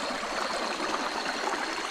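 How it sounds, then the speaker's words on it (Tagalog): Steady rushing river water, broadband and continuous, spilling over rocks nearby, with no voices. "Ingay ng tubig, ang bagsak ng tubig."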